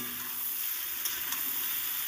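Green chilies frying in oil in a pan for a small fish curry with winter vegetables, a soft continuous sizzle with light stirring, quiet and close.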